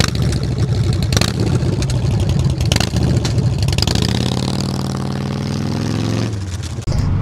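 A 2022 Indian Scout Rogue motorcycle engine runs steadily up close, revving and rising in pitch before settling back toward an idle near the end.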